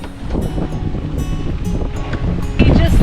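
A sailboat just out of Ensenada moves at about three knots in roughly eleven knots of wind, with steady wash of water along the hull and wind buffeting the microphone, a louder gust or splash near the end.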